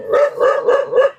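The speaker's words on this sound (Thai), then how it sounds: "ทำไมตัวนี้มันเห่าอ่ะทำไมตัวอื่นไม่เห่าอ่ะ" A dog barks four times in quick, even succession, loud and close.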